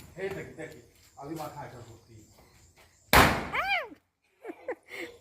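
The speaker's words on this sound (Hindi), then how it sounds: "धोती पहन के फिर वो पटाखा फोड़ रहे हैं बच्चों के साथ।" A sharp, loud firecracker bang in a Bihar village cuts through between stretches of nearby talk, followed by excited voices of children.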